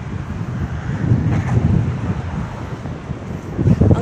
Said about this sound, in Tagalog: Ang ganda ng simoy ng hangin, oh.